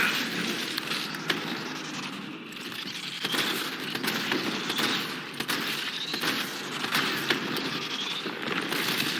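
Gunfire from shooting at tanks in the Resident Evil 3 Remake video game plays as a dense, continuous barrage of cracks and bursts. It sounds loud and chaotic, with crackling over a constant rumbling background.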